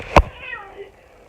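A house cat gives a single short, loud meow close by, followed by a faint trailing murmur in a quiet room.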